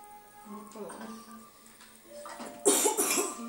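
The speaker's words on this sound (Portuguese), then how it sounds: "Vocês podem ver que eu tô com um pouquinho de tosse aqui." Someone coughs several times up close, a few short bursts, with brief speech around them.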